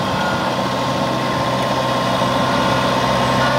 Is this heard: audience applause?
no